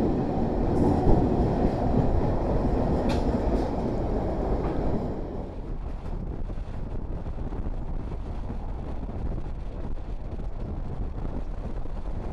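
A local train runs on its way toward Radhamohanpur railway station, a loud steady rumble heard from on board that drops to a quieter, even roar partway through, with no voices.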